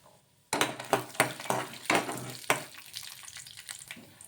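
Peanuts and chana dal dropped into a hot pan for a bottle gourd breakfast dish, giving a sudden loud burst of sizzling with repeated clattering stirs that gradually settles into a quieter crackle.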